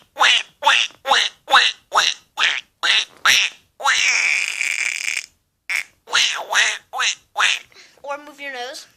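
A person imitates duck quacks with the mouth, giving a rapid series of about a dozen short nasal quacks with a brief sustained buzzing call in the middle, close and loud against silence.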